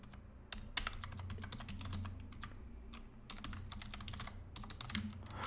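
Fingers type on a computer keyboard, a quick, close, continuous patter of soft key clicks with a few brief pauses.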